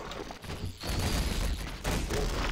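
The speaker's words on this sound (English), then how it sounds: "So just shoot him with your rockets." A rocket launcher in Half-Life 2 fires and detonates, producing heavy booming blasts with a sustained rumbling roar and a sharp thump between them.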